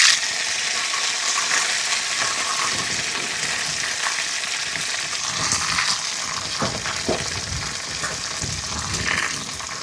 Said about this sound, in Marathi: तर आता मी याच्यामध्ये भाजी टाकून देते.